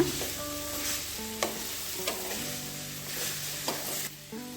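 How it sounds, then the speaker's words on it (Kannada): Okra (ladies finger) frying in a pan over a low flame, giving a steady soft sizzle with a few scraping stirs of a spatula throughout, close and moderately quiet, with no talking. "ಸಣ್ಣ ಉರಿಲಿ ಬೆಂಡೆಕಾಯಿ ಫ್ರೈ ಮಾಡ್ಕೊಳ್ಳೋಣ"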